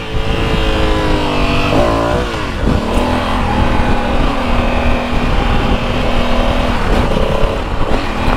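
Honda Africa Twin 1100 motorcycle engine roaring loud and steady throughout, rising and falling through revs with a gear-change dip near the middle, heard up close while riding.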